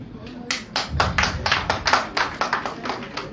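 Audience applause at a formal session, a dense run of overlapping hand claps, close and steady throughout with no voices.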